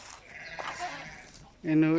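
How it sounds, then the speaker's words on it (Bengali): A goat gives one loud, close, wavering bleat near the end, after a quieter stretch of faint voice and background sound. "এটু ছাগলই।"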